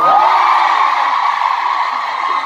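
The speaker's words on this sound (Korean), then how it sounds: "다시 한번 큰 박수 주세요" A concert crowd at a K-pop hip-hop show roars, cheering and whooping loudly and continuously. Many voices blend into one dense wash with a few high shouts standing out.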